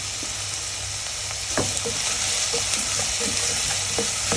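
Sliced onions sauté with a little salt in a pan for a Kerala-style mutton stew, producing a steady, close sizzle broken by occasional scraping stirs, with no speech.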